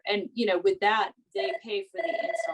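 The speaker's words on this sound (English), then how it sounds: "I'm sorry about the phone noise." A telephone rings in a home during a conversation about solar leasing, its repeated electronic trill sounding under and after a person's speech at moderate volume.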